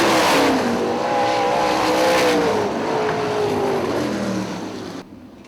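IRA sprint race cars roar around the Hartford Speedway Park oval, loud high-revving engines sweeping past with pitch dropping as they pull away, the sound fading out near the end.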